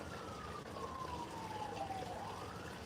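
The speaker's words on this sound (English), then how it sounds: "Let's hear the siren. I'm in the city." An emergency vehicle siren wails through a city, one long tone sliding down and then starting to rise again, heard at a moderate distance over a low background hum with no talk.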